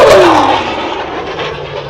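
A USAF F-22 Raptor fighter jet at an airshow roars past overhead, a loud broad jet rush with a falling whine that slowly fades as it passes, with no talking.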